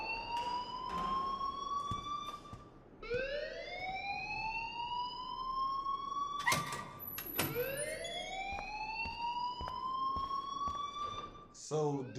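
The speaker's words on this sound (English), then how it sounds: "please turn off that alarm since that's your job" A school alarm in Life is Strange wails in long rising electronic sweeps that repeat several times, loud and continuous, with a sharp break midway before the sweeping tone resumes.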